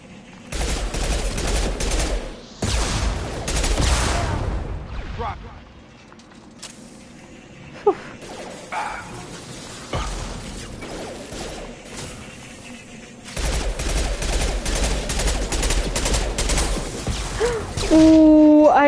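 Heavy automatic gunfire during Mass Effect 2 combat: loud, sustained fusillades open and close the passage, with quieter scattered shots and battle noise between, and a brief tonal game sound at the very end.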